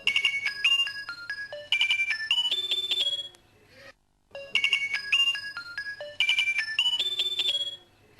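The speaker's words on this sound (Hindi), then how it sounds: "राबिया बेटी का फोन है किराची से।" A melodic electronic ringtone plays two full rounds of a bright repeating tune, separated by a short silent pause, clear and close.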